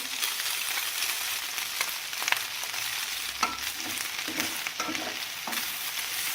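Meat for homemade döner sizzles and crackles steadily in a hot pan, with occasional scraping and stirring sounds.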